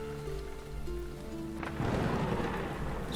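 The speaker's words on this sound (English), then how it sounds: "Looked out the window to see a large storm brewing." A storm at sea builds with a low rumble of thunder, then steady heavy rain breaks in and patters densely on surfaces, loud and continuous with no voices.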